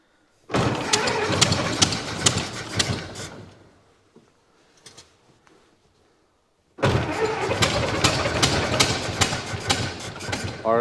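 A 1924 Ford Model T engine that had sat unused cranks and sputters in two loud, rough bursts separated by a quiet pause, close to the listener with no talking.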